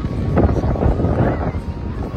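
Sea wind at Udaipur beach near Digha buffets the microphone in low, rumbling gusts that rise and fall throughout, loud and close.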